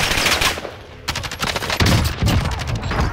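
Rapid bursts of automatic gunfire from Call of Duty Warzone on the Fortune's Keep map, sharp repeated cracks in the first second then denser, heavier volleys continuing throughout, loud and close.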